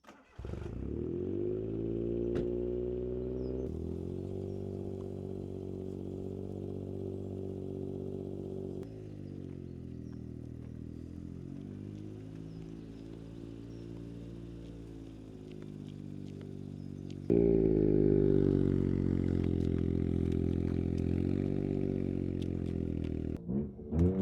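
A modified Suzuki Cappuccino kei car engine drones steadily while driving, its exhaust note rising and falling with gear changes and then swelling louder and closer toward the end.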